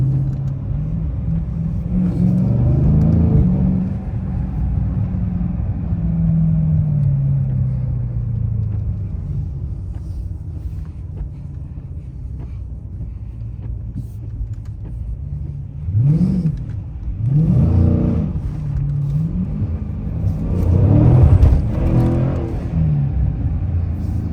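A 2022 Dodge Challenger Widebody Scat Pack rumbles deeply from inside the cabin while driving, a steady low drone that swells into several throaty revs toward the end.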